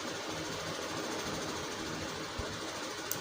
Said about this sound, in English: Then you double stitch.